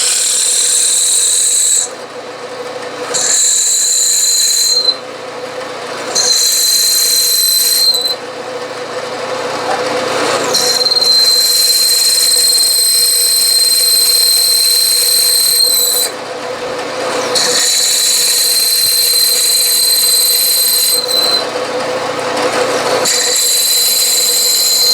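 A drill press with a dull bit grinds through metal in back gears, long loud scraping bursts broken by short pauses, close and continuous for most of the stretch.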